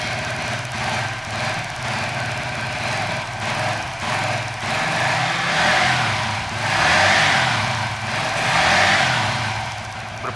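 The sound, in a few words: Suzuki FU 150 motorcycle engine revving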